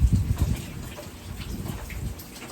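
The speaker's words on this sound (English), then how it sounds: "excuse the rain in the background" Rain patters steadily outside, a soft, fairly distant wash with a few heavier low thumps early on, no voices.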